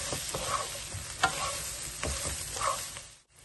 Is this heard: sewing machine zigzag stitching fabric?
no